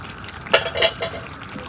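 A spoon scrapes and clanks a few times in a pot of gourd and fish curry being stirred, with three quick, fairly close metallic knocks over a quiet background.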